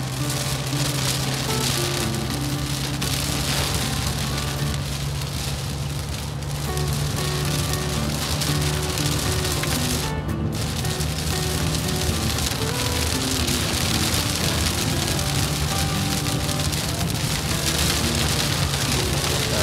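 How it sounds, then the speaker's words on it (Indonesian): Heavy rain pours down on a bus during a flood detour near Sayung, a dense, continuous roar of water drumming on the roof with no pauses. "Deras banget hujannya, kayak langsung air tumpah gitu."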